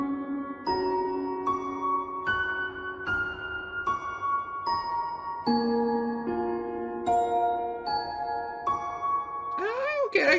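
A song, posted on an old website before Deltarune, plays as a bright, bell-like melody of evenly spaced plucked chords, each ringing and fading, ending in a quick rising flourish.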